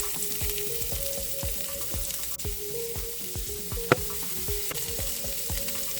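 Chopped carrots fry in a pan with a constant close sizzle and crackle. Occasional spatula scrapes and a single sharp tap break through the steady frying, with no voices.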